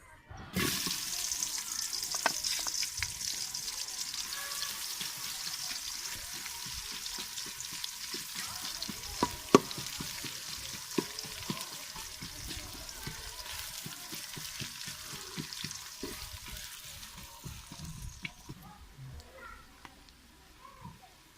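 Onions sizzling and frying in hot desi ghee in a village kitchen pan, a steady broad hiss running throughout with occasional stirring clinks and knocks, close and moderately loud.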